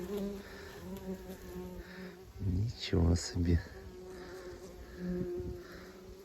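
Bees buzz steadily around, a droning hum that swells loudly close by for a moment, with a person speaking briefly over it.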